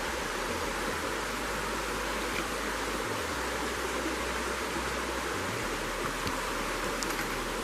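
Stream water runs steadily through a long, slow pool and spills over its tail crest, making a continuous broadband rush with a low rumble underneath and no voices.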